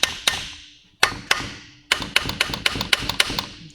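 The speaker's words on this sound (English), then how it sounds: "Taps with a brass hammer maybe." A brass hammer taps on a KX250 two-stroke engine case, single ringing metallic knocks at first, then a quicker run of closely spaced taps, close up with no talk.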